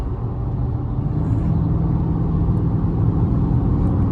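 A 500 hp Dodge Scat Pack drives on the highway, its engine a steady, loud low-pitched drone with constant road rumble and no pauses, heard from inside the car without any voices.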